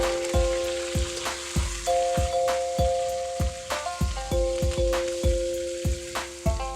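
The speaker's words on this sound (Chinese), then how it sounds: "另起锅，葱姜炝锅后爆炒甲鱼。" Soft-shell turtle stir-fried hard in a hot wok after scallion and ginger are sizzled in oil, loud continuous frying hiss broken by repeated sharp clanks of the spatula against the wok, close up with no talk.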